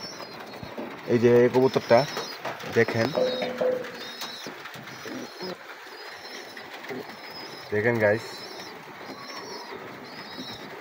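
A yellow pigeon coos in soft repeated bursts, twice clearly, beside a chick hatching from its egg, while a person talks close by.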